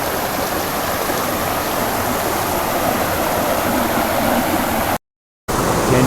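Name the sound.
jungle waterfall near Gambita, Colombia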